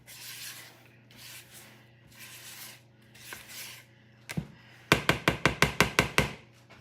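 A spatula scrapes down the sides of a mixing bowl of cookie dough in short rubbing strokes, followed by a quick series of sharp knocks as the utensil is tapped against the bowl's rim.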